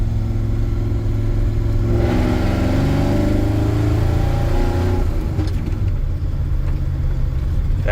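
A 1986 GMC CK 3500 dually pickup with a 454 V8 pulls in second gear around 2,500 RPM, its deep engine drone loud and steady with a rising growl as it accelerates, heard from inside the cab.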